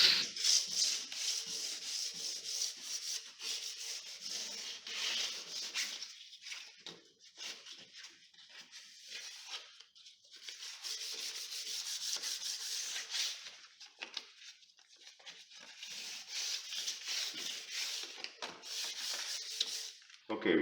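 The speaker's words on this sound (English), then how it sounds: "And here is another place I'm actually sanding." Hardwood stairs coated in polyurethane are sanded by hand in repeated back-and-forth scratchy strokes, rising and pausing in a steady rhythm, fairly quiet and close.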